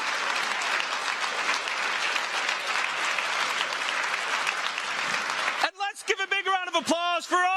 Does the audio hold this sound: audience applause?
yes